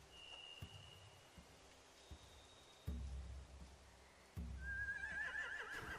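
Horses in The Walking Dead video game whinny in a faint, high, wavering cry near the end, over soft rain-like background noise and a few dull thumps.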